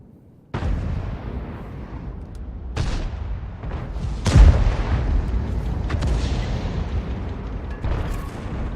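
Tank cannon blasts and shell impacts from a World of Tanks battle with a Conqueror Gun Carriage, IS-7 and E100: several heavy booms with one especially loud hit midway, over a continuous low rumble of battle noise.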